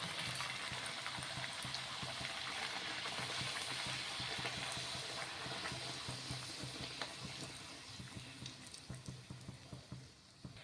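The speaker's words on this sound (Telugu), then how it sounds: "ఇంకా ఇలా మనకి ఎన్ని పూరీలు అవుతాయో అన్నీ ఇదే విధంగా ఫ్రై చేసేసుకోవడమే." Sabudana puris deep-fry in hot oil with a dense, even bubbling sizzle up close. Near the end it thins into scattered crackles and pops, and no one speaks.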